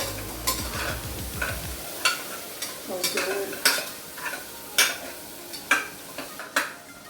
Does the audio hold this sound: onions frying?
yes